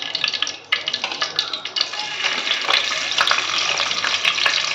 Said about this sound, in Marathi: त्यानंतर मी इथे यामध्ये घालते टोमॅटो.